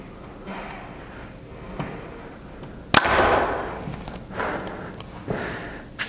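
A single sharp compound bow shot from a Hoyt VTM 31 or Mathews Phase 4, a sudden crisp snap mid-clip followed by a brief whooshing decay, amid quiet outdoor background with a few faint knocks.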